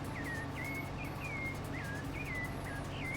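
A bird in a tree in the video game Farming Simulator 22 gives short repeated chirps at an even pace, clear above a steady low engine drone.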